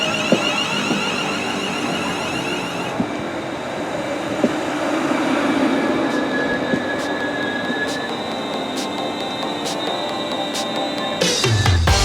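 A London Northwestern Railway train pulls in at a station on the West Coast Main Line bound for Crewe, with a steady rumble of wheels on rail, brief squeals and a louder rush of the arriving train at the end.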